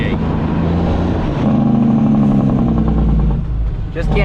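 A truck with an N14 Cummins engine works its Jake brake on a dairy farm, a loud, rapid, throaty engine rattle that swells in the middle, with a person talking over it.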